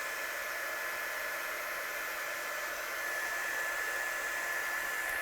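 A hair dryer blows over stamped old book pages, its steady, loud rushing hiss continuous and unbroken throughout, with no talk.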